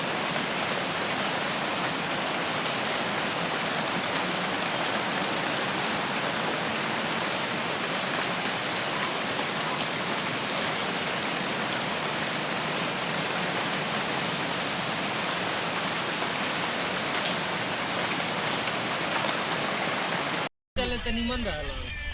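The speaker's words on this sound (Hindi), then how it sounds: "फिलहाल बारिश का आनंद लेते हैं" Heavy rain pours down steadily over a village, a dense, loud, unbroken hiss that continues throughout with only a brief cutout near the end.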